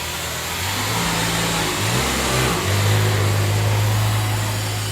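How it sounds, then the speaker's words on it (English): A helium truck's engine runs steadily beside a parade balloon staging area in a parking lot, a continuous low rumble with slight rises in pitch, fairly loud and close, over broadband outdoor noise with no talking. "Nearby is the helium truck."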